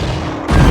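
A mine blows up in the film Eight Legged Freaks, gas ignited by lit matches: a sudden deep boom bursts in partway through and rumbles loudly to the end, following a quieter, hissing stretch.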